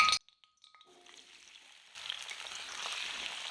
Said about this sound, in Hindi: तेल गर्म हो चुका है, और अब हम डाल देते हैं धुले हुए सूरन, और 4 से 5 मिनट के लिए हम फ्राई कर लेंगे।